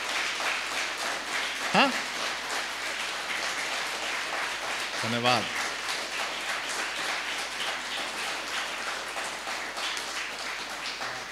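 An audience at a Hindi comedy poetry recital (hasya kavi sammelan) in Kolkata claps steadily, a broad rain-like patter of applause that runs the whole time, with a voice briefly speaking over it.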